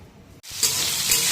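Potatoes fry in hot oil in a pan at home, a brief pause and then a loud, close, steady sizzle with bright crackling swelling up and holding, no voices over it.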